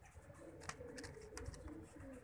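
Soft, low cooing of pigeons, repeated murmuring calls close by, with light rustling and clicks around them.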